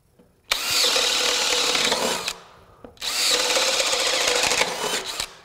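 DeWalt DCD999 drill in Power Detect mode driving an auger bit into wood, two sustained, loud grinding bursts about two seconds each, separated by a short pause, close and without talk.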